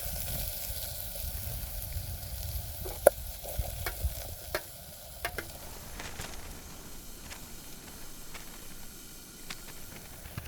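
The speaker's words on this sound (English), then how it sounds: "Give it a little stir." Chorizo and food in a pot on a camp stove during a wild camp in Kosovo's mountains, stirred with a few light scraping clicks over a soft, steady sizzle and stove hiss, fairly faint.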